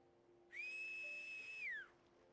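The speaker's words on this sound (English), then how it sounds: "you can just whistle to signal for help" A single clear, sustained whistle in the World of Final Fantasy video game rises sharply, holds a steady high pitch for about a second, then slides downward and fades, heard alone over a quiet background.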